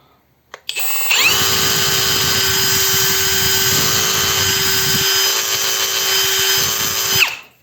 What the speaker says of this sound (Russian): Ну и режим сверления с ударом.